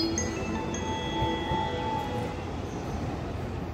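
An electric train rumbles steadily past with a continuous low roar and faint metallic squeals from the wheels, no voices.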